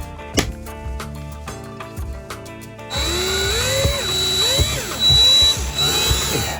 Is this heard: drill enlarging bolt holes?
yes